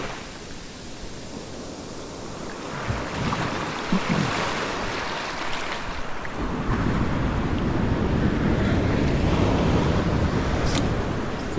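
Big ocean waves break on a beach, a broad hiss and rumble that swells louder partway through, with wind buffeting the microphone.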